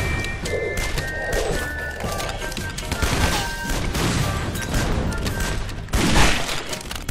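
Rapid gunfire and explosions in the video game Guns, Gore & Cannoli, a dense, loud barrage of shots and booms filling the whole stretch, with a stronger blast near the end.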